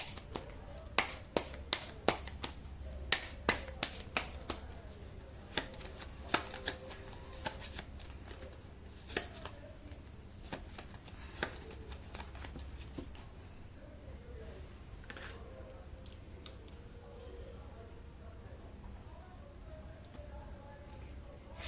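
Tarot cards being shuffled by hand in rapid, crisp riffling bursts, loud and close at first, then thinning into sparser soft card sounds and light handling.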